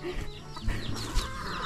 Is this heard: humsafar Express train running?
no